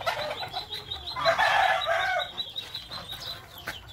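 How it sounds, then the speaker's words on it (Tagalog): Chickens cluck and a rooster crows in a small backyard chicken and duck pen in the Philippine countryside, the calls close and moderately loud over steady farmyard background, with no one talking. "Ito po ang aking unting manukan at saka patuhan."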